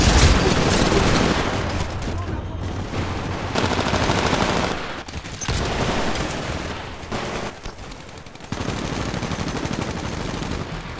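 Titanfall combat gunfire rattles in dense, near-continuous automatic bursts with heavier shots mixed in, loud throughout with brief gaps and occasional voices underneath.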